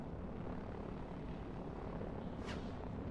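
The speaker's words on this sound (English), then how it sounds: "There's a helicopter coming over," A helicopter passes overhead in a tower-defence style strategy video game, its steady rotor and engine roar filling the whole moment at a constant level with no voices.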